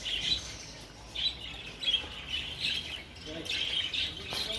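A brood of nearly forty budgerigar chicks chirps in bursts of high, thin, overlapping peeps, fairly close, and a person talks quietly in the background.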